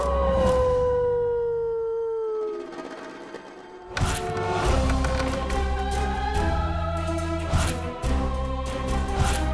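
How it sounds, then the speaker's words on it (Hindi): A dog howls outside a house at night, first in long, drawn-out wails that fade, then again among layered howls over a steady background score. "उस रात छलावे ने कुत्ते का रूप धारण किया और घर के बाहर रो रहा था।"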